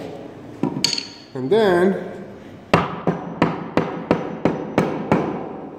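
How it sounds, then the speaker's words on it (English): A wooden wedge is driven into a Windsor chair leg through the seat with a hammer, giving about eight sharp, evenly spaced near taps that follow brief talk and other workshop knocks. "I'm gonna tap that down. That's tightening up the wedge this way."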